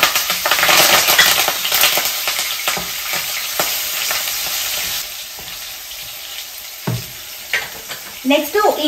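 Curry leaves, green chilies and ginger strips hit hot oil in a pan, a loud crackling sizzle with spattering bursts that slowly settles into a steady frying hiss, with a few clinks near the end; no talk.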